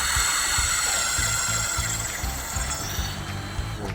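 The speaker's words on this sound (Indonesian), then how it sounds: "saya mencoba mengebor kayu ya. Di sini tebalnya 5 cm" A Tosita cordless drill bores through a 5 cm thick block of wood, its steady whine holding under a low, rhythmic grinding chatter as the bit cuts, loud and close throughout with no voices.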